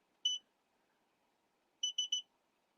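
A single electronic beep from an embroidery machine, then a quick run of three identical beeps after a pause; high-pitched, clean tones over a quiet background.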